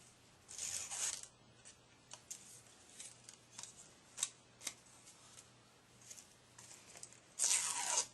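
Quick rasping swishes of ribbon being drawn hard across a blade, with light ticks and rustles between strokes, close and fairly quiet.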